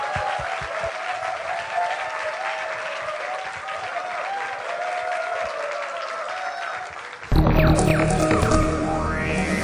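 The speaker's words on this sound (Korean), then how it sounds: "큰 박수 부탁드립니다" An audience at a Korean talk concert applauds, a dense and steady clatter of many hands that swells louder toward the end.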